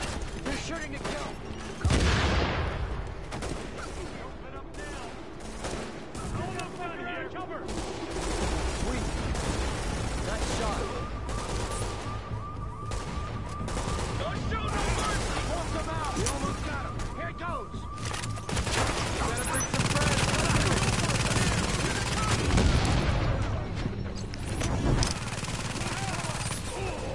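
Enemies shoot in a PS4 video game with sustained bursts of automatic gunfire and booms that go on throughout, loud and dense, mixed with mechanical clatter and someone talking over it.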